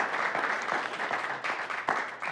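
Applause from an audience at a work session for a recognized staff member, a continuous dense patter of many clapping hands with a few louder accents, moderately loud throughout.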